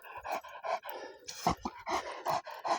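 Dogs caught up in a dog fight pant heavily and rhythmically up close, with quick, loud breath bursts repeating about every half second and no talking.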